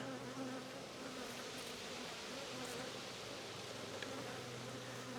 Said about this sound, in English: Kind of hear the bees down in there.